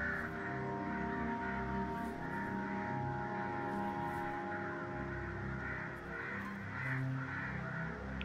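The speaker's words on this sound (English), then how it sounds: "I hear birds." Crows cawing in the video game Only If, repeated harsh calls sounding in scattered bursts over a loud, sustained droning music bed.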